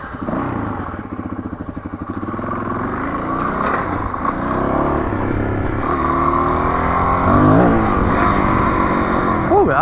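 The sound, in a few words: off-road motorcycle riding on a hard-pack dirt trail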